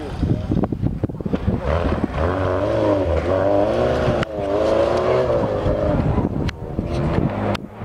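Lada Niva and UAZ off-road cars race each other, their engines roaring loud and close, rising and falling in pitch throughout, with a brief cut near the middle.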